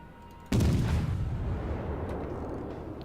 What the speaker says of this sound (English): Wait, someone's shooting.